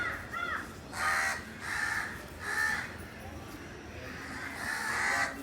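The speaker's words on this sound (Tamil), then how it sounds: "இப்போ கோபுரம் பாருங்க, காக்கா சவுண்டாக ஒரு அழகாக கேட்குது." Crows caw around a temple tower, five or six harsh calls spaced about a second apart, moderately close over a faint background hum.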